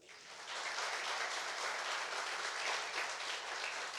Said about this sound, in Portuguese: Quem pode aplaudir a Ele?